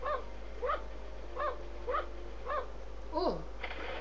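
A dog in Syberia II barks repeatedly, five or six short yips at fairly even intervals, then a drawn-out whining bark near the end, fairly faint against a quiet background.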